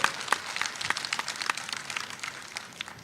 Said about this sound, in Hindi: एक बार जोरदार ताली बजाकर मुख्यमंत्री जी का स्वागत करें